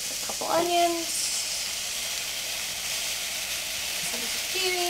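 Eggplant, onions and zucchini sizzle as they grill in a pan, giving a steady broadband hiss throughout. A brief tonal scrape or clink is heard near the start, and a faint voice is barely present underneath.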